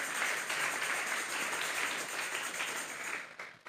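Congregation at a youth church service clapping together, a dense, steady patter of applause of moderate loudness that fades slightly toward the end, with no voices over it.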